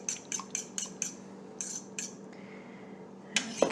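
Eggs beaten with a fork in a bowl for carrot cake, a run of close, quick metallic taps against the bowl that slows into a few scattered clinks, with no talking.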